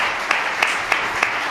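An audience at a debate event applauds with a steady wash of clapping and a few sharper claps standing out, moderately loud and sustained for the whole moment, with no talk over it.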